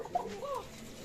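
A Bashiraj pigeon gives a brief, faint, thin coo, one short warbling call over soft background noise.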